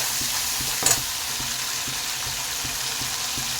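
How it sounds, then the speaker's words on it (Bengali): Spice paste for yardlong beans frying and being stirred in a pan, a steady close sizzle with regular scraping strokes and one brief clatter, no talking. "তো মশলাটা কিছুটা কষিয়ে নিয়ে"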